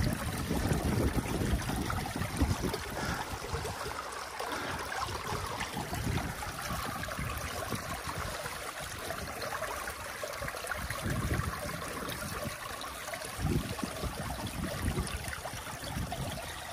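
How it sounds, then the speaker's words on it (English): Water rushes fast through a breached beaver dam, a continuous broadband gushing and trickling that stays strong and steady throughout with no voices. "water dropping very fast."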